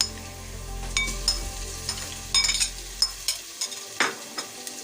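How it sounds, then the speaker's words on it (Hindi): Ginger garlic paste is sautéed with browned onions, giving a steady sizzle under repeated scraping and clinking of a spoon against the pan. The low hum drops away partway through, and no one talks. "दो से 3 मिनट तक भूनेंगे अदरक लहसुन का पेस्ट को।"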